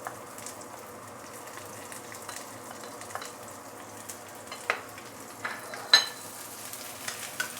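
Garlic, onion, carrot and the white part of spring onion sauté in a pan for a Maggi mee goreng with luncheon meat, giving a steady low sizzle with occasional stirring scrapes and clinks, close and moderately quiet.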